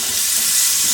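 A bright, steady sizzle of steak bites frying in a hot pan, loud and continuous throughout, with no voices.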